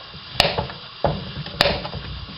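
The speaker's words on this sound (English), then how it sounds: "Just going to cut the ends off" Knife chopping the ends off three washed vegetables on a cutting board, a few sharp separate cuts close up with quiet pauses between them.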